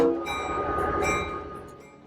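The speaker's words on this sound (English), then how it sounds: "We were given the chance to ride the cab of this mighty diesel locomotive" Diesel locomotive at a railway museum heard from its cab, a steady low engine rumble with metallic ringing and clinking overtones, loud and close throughout, easing off slightly toward the end.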